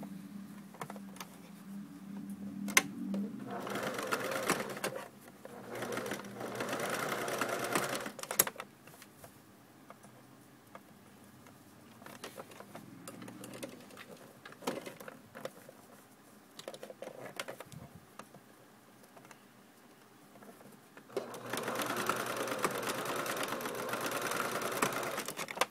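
A sewing machine stitches down the ends of sweater cuffs in short bursts of whirring, separated by quieter gaps of handling and faint clicks, heard close but at modest volume.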